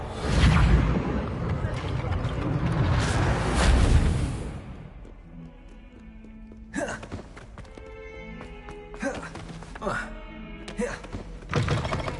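A magical Reparo repair spell effect from the video game Hogwarts Legacy, heard as a dense whooshing surge for several seconds that fades, then gives way to thunks, thuds and chiming tones.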